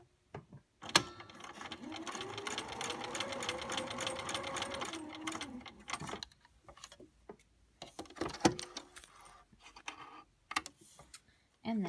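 A home sewing machine stitches pieces of a Moravian star quilt together, running in one steady, close, whirring burst of about four seconds with a quick ticking needle rhythm, followed by scattered clicks and fabric handling.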